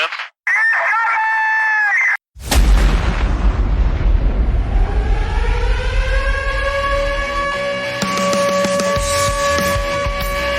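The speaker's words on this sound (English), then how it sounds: "until the siren comes on" A loud wailing siren with steady harmonic tones rises after a brief burst of other sounds and keeps sounding close and continuous, with a second siren-like layer joining near the end.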